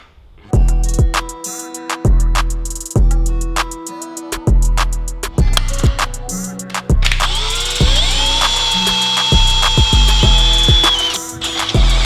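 A ratchet works on a car intake manifold during disassembly of an Eclipse engine in a shop, giving a series of sharp, close clicking bursts separated by short pauses, later joined by a ringing metallic tone.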